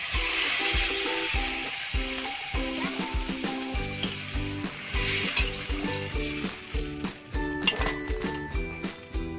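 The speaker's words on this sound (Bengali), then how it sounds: "দিয়ে দিচ্ছি জল।" Water splashed into a hot pan of frying taro with ginger paste, a steady sizzle with stirring clinks, moderately loud and close, no voices.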